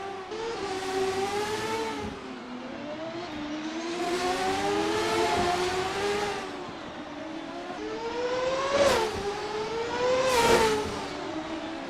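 Late-1990s CART race cars lap the Long Beach street circuit in a racing game, engines whining and rising and falling in pitch as they accelerate and shift, with two sharp peaks near the end and no talk.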